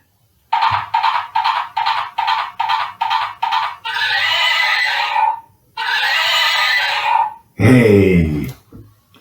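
A horse whinnies in a long, loud series of quivering calls, ending with a lower snorting neigh, close by with no talking.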